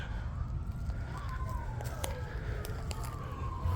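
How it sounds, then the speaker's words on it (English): A faint siren wails and sweeps in pitch far off, half-buried under steady outdoor background noise and a few scattered ticks, heard from a California native plant garden. "Sirens in the background"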